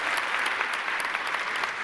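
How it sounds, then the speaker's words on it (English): A brief, dense burst of audience applause at a leadership breakfast event, steady clapping from a crowd that fills the whole moment. "That deserves an applause."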